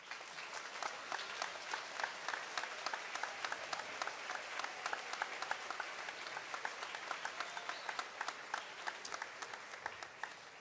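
Applause from the audience at a middle school graduation ceremony for the graduates' parents, a fairly quiet field of many separate claps heard from a distance, steady and unbroken throughout.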